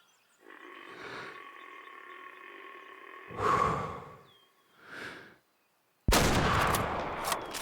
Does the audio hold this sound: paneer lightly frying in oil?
no